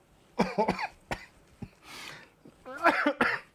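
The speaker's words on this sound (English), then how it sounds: "That actually made me cough." Several sharp coughs burst out close to the microphone, spaced irregularly, with a rough throat-clearing sound between them and no speech.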